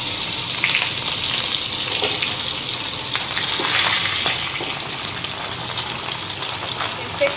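Fish rubbed with salt and turmeric frying in a wok makes a loud, rushing, bubbly sizzle with a few spatters and faint stirring, close and continuous with no voices.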